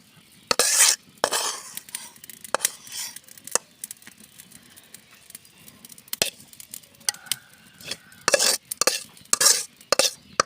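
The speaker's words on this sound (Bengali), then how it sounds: "তো আমাদের ভাজিটা সেম কপি ভাজি হয়ে গেছে এখন আমরা বাটিতে ঢেলে নিচ্ছি" Bean and cauliflower stir-fry scraped from a pan into a bowl, heard as a series of irregular metallic scrapes and clanks of a spoon against the pan, some sharp and loud, with quieter stretches between.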